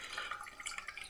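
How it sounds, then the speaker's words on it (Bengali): Blended coconut liquid runs through a kitchen strainer into a bowl, giving a soft, continuous trickle and patter that stays faint and close for about a second. "আমি এবার ছাঁকনির মাধ্যমে আমি পুরোটা এটা ঢেলে দিচ্ছি।"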